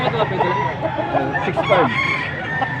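Chickens cluck and a rooster crows nearby at a gamefowl market in Angeles, Pampanga, with overlapping calls from several birds in a noisy yard and faint voices underneath.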